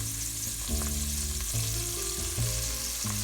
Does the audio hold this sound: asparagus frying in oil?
yes